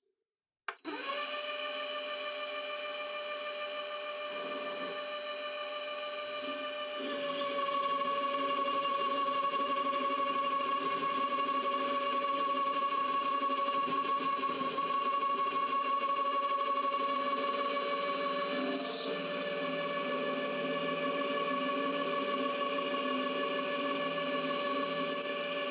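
A mini lathe runs with a steady motor whine and strong tonal hum while a cutting tool removes metal shavings, the sound louder and harsher partway through and holding continuously with no talk.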